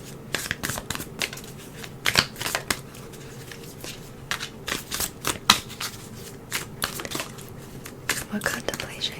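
Cards riffled and shuffled repeatedly in quick, crisp bursts, close up, with brief pauses between runs.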